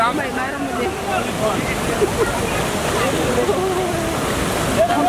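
River water flowing at Sundarijal River, a loud, continuous rushing wash close by with faint voices heard through it.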